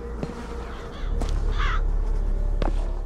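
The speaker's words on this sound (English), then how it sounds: "These birds cawing is freaking me out." Crows caw in the game Bioshock Infinite, a few harsh calls scattered over a low droning ambience, one louder rasping caw standing out in the middle.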